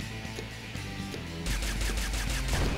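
Gunfire from a weapon in the video game Wild Wastelands: a dense, loud run of rapid shots that jumps sharply louder about halfway through and keeps hammering to the end over a steady game music bed.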